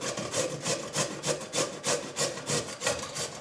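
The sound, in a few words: grating potatoes on a small grater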